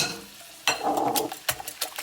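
Whisk beating two jumbo eggs with melted butter in a bowl, a quick scraping swirl followed by several brisk clinking strokes, close and loud with no talking.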